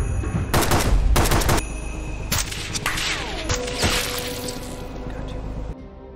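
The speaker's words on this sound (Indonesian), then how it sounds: "Dan terjadilah baku tembak." Gunfire in a film gunfight between special forces and rebels, loud bursts of automatic fire and scattered shots layered with dramatic score and effects.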